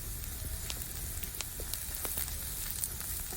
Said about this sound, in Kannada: ಎಣ್ಣೆಯಲ್ಲಿ ಚಂದ ಮಾಡಿ ಫ್ರೈ ಮಾಡಬೇಕು